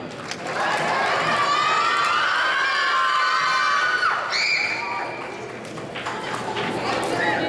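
Crowd noise of cheers and shouting children at a fifth grade graduation ceremony, sustained and loud across the whole stretch, with a voice rising above it partway through.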